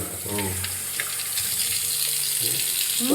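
Hands are washed under a running tap, a steady splashing stream heard close up while people talk over it.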